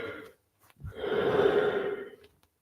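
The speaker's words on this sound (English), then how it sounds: "Why am I yawning?" One person gives a single long, breathy yawn, starting with a sharp intake and swelling into a sustained open exhale before fading, close and alone.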